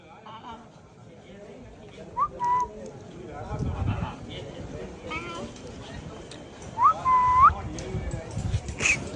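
A parrot gives short, bright electronic-sounding chirps twice, mimicking a phone notification tone, with people talking in between.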